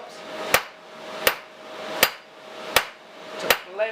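A hammer forges the taper of a small round steel punch with six sharp, ringing blows at an even, unhurried pace, each strike distinct and close.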